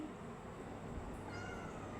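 A mother cat in a home kitchen gives a faint meow against a steady low background hiss. The call is soft and brief, with no talk over it.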